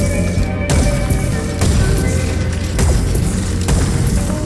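Cannons firing in the game Robocraft 2, repeated heavy booms roughly every second over a dense, continuous layer of loud game noise and mechanical rumble.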